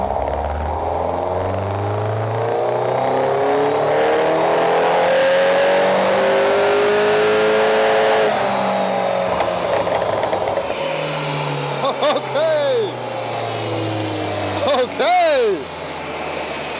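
A Mini John Cooper Works engine revs hard on a dyno during a power run, a loud sustained rising roar that climbs steadily, then cuts off and leaves sharp pops and burbles on the overrun near the end.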